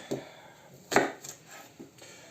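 A knife cutting onion into rings on a board while preparing a marinade for shashlik, three or four separate close chops with short gaps between them, no talking.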